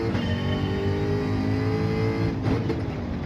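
Race car engine in Gran Turismo 7 drives under steady load, a loud continuous harmonic drone with shifting pitch and a brief dip as the revs change near the end.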